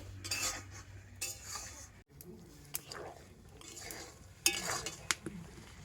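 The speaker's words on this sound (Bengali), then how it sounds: "এইভাবে নাড়াচাড়া করে তো সাবুদানাটাকে ফুটিয়ে সিদ্ধ" Sago being stirred in a wok as it boils, with clinks and scrapes of a metal utensil against the pan in irregular strokes and a voice talking quietly alongside.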